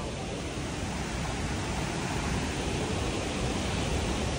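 Water rushing steadily at a hidden waterfall among stone steps, a loud, unbroken broadband roar close by with no voices.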